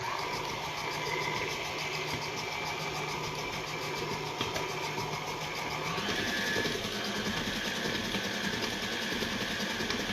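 An electric mixer whirs continuously through cake box batter at close range, a steady motor drone with a slight shift in pitch partway through and no talk over it.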